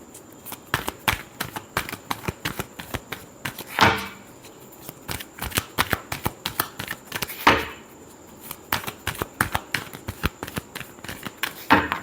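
Tarot cards being shuffled in rapid irregular riffles and taps, two louder flurries standing out, close and fairly quiet with no talking.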